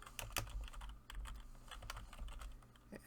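Fingers type on a computer keyboard in quick irregular bursts of sharp clicks with short pauses, close and fairly quiet, with no talk over them.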